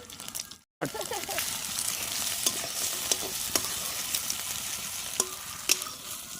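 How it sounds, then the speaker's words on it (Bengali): An egg cracked into hot oil in a pan while Maggi noodles are being made, giving a steady close sizzle with a few sharp crackles and spatters. "তেলটা গরম হয়ে গেছে, এবার আমরা ডিমটা ফাটিয়ে নেব।"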